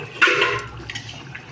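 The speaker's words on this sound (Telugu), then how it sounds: "8 గ్లాసులు వాటర్ వేయాలి." Water is poured into a pot of rice for chicken biryani, a brief splashing gush near the start that quickly fades to a quieter trickle.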